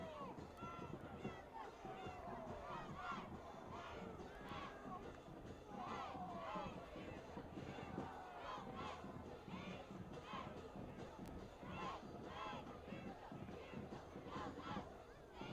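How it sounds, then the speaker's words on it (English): High school varsity football playoff crowd chanting from the stands, a loud continuous mass of voices with rhythmic pulses of shouting, heard from above and at a distance, with no clear single voice. "as the crowd chants down below"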